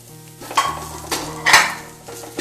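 Grated coconut roasting with sautéed onions in a pan, a spoon scraping and clattering against the metal in three or four distinct strokes over a soft background sizzle, close and fairly loud.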